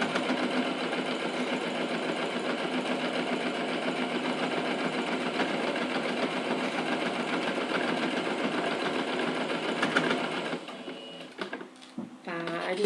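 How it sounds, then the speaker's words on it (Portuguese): A sewing machine stitches a fabric pencil case with a mesh window, a steady rapid mechanical rattle running close and continuously before slowing and stopping near the end, with a person speaking over it. "Cheguei na esquina, paro, abaixo a agulha, faço o retrocesso e continuo."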